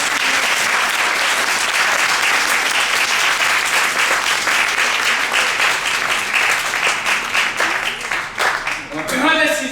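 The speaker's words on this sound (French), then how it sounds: "Applaudis le roi des rois, le Seigneur." Loud, dense applause from a church congregation fills the whole stretch, steady and sustained before thinning slightly at the end.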